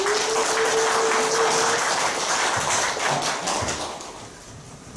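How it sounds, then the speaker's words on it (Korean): Welcoming applause from an audience at a church forum, dense steady clapping with a brief whistle-like tone early on, holding level before fading out toward the end. "박수로 환영해 주시기 바랍니다"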